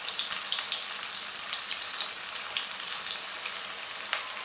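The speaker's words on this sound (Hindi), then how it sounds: "एक मिनट करीब हम प्याज को सौते करेंगे।" Chopped onion, crushed ginger and spluttering cumin sauté in hot oil in a pan, giving a steady, close sizzle with faint crackles throughout and no talking.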